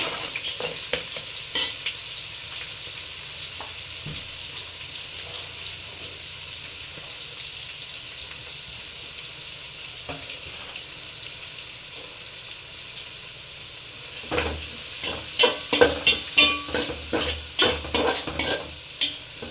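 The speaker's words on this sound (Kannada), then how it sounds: "ಈಗ ಎಣ್ಣೆ ಕಾಯ್ದೈತೆ. ಈರುಳ್ಳಿ, ಹಸಿಮೆಣಸಿಕಾಯಿ, ಕರಿಬೇವು 3 ಹಾಕ್ಕೊಳ್ತೀನಿ" Onion, green chili and curry leaves fry in hot oil with a steady sizzle that suddenly grows louder and crackly toward the end, with some stirring scrapes and no talking.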